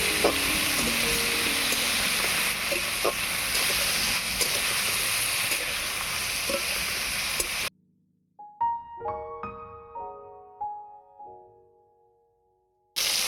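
Washed eggplant pieces fry in mustard oil in a kadai, a steady, close, loud sizzle for most of the stretch that cuts off abruptly and gives way to a few plucked musical notes.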